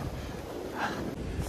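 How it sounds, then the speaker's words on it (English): Strong wind gusting straight into a phone microphone outdoors during a winter storm, a steady loud rumbling buffet with a brief swell partway through and no voices. "It's dumb windy. I gotta put my mouth in the phone damn near to talk."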